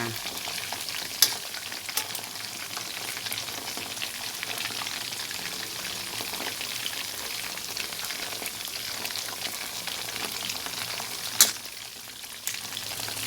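Chicken drumsticks fry in hot oil, a dense, steady sizzle and crackle heard up close, with a couple of sharp pops standing out from the bubbling.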